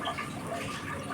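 Water pours into a curry of spiny eel and pointed gourd, a brief soft splashing rush at low volume with no voices.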